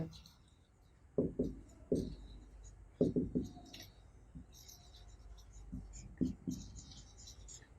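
A pen scratches and taps on paper while a math equation is written out, short bursts of strokes with pauses between them, quiet and close.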